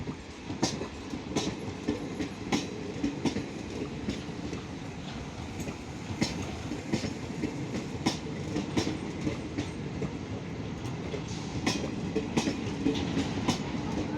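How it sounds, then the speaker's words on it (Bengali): A passenger train on the Barbil to Puri run rolls slowly past a level crossing. Its wheels give a steady, regular clickety-clack over rail joints with a low rumble, close and continuous, and no voices are heard. "এই যে ট্রেন চলে যাচ্ছে।"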